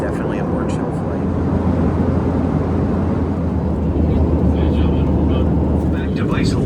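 Airplane cabin noise during a flight on a half-full plane, a loud steady low engine roar and rushing air that runs unbroken throughout, with faint voices now and then beneath it.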